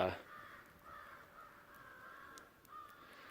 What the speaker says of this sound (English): man, those crows are going nuts.